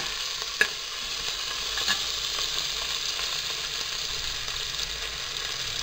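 Crushed green chilli and ginger sauté in a pan with a steady, moderate sizzle, punctuated by occasional scraping stirs and light clicks of a spoon, close and unbroken throughout.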